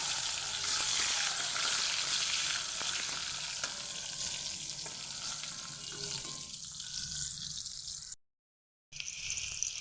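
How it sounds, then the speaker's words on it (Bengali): Eggplant pieces fry in hot mustard oil, a loud continuous crackling sizzle that gradually settles, cut by a brief silence near the end before resuming. "এখানে সর্ষের তেল গরম হতে দিয়েছি তেলটা গরম হলে এবার আমি দিয়ে দেব বেগুনগুলো"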